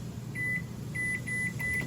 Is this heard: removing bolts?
no